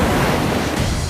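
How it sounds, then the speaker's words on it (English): Large storm-swell ocean surf breaking along the San Diego coast after a Pacific storm: a loud, broad roaring wash of water with wind noise, continuous and close for about a second. "it produced extremely large and hazardous waves"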